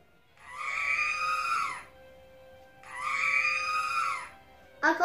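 A toy droid robot from a droid inventor kit lets out two long, loud, high-pitched electronic scream tones with a short pause between them, and a third burst begins at the end.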